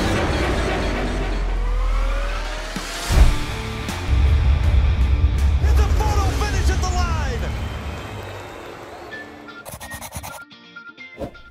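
A car engine starts with a sharp burst, then revs in rising and falling sweeps for several seconds before fading into a few short clicks and rattles.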